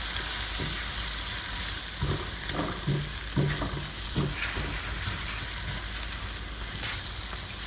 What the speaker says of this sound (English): now we're going to add our shrimp to the butter and garlic mixture and kind of let that saute a bit